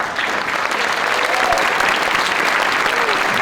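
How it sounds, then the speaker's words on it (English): Loud, dense applause from an audience at a high school Veterans Day program, cheering students and staff; clapping holds steady and close for the whole stretch. "a round of applause"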